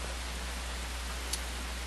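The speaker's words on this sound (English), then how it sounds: "the rain effects are pretty good." Rain sound effects from the video game Vampire Rain form a continuous dense hiss of falling water, with one faint brief click near the end and no talking.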